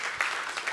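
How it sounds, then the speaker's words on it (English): Brief burst of audience applause in a theater at the Oslo Freedom Forum, a soft, fairly distant patter of clapping with a couple of sharper swells. "So round of applause for them."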